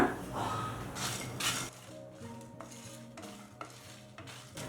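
Spices and curry leaves for pepper rasam dry-roast in a pan: a louder scraping stir at first, then softer crackling with a few sharp clinks of a utensil against metal.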